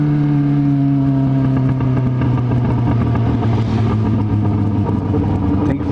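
Busy urban traffic passes while riding, likely on a motorcycle, with a loud, steady engine drone and whir throughout and a rumble of vehicles close by, with no speech over it.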